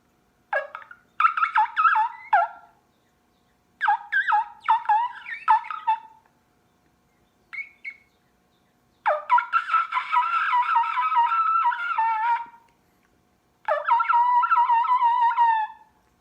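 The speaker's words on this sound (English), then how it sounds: "try to produce that squeal" Wingbone turkey call blown by mouth, producing a series of sharp, high squealing yelps in bursts, some short and clipped, others sustained for a few seconds, loud and close with pauses between, no talking.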